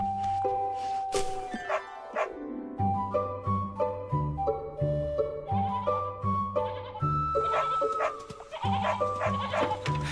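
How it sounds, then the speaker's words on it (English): Sheep bleating repeatedly as a sound effect, a series of loud, close, wavering bleats in quick succession, with other animal calls mixed in. "He left his 99 sheep safe at home and went looking for the one lost sheep."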